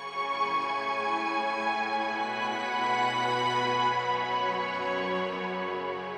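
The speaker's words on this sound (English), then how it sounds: "this is the sound of just the reverbs." Lush, reverberant strings wash in a sustained, blurred chord, the tail smearing notes together into a soft continuous haze.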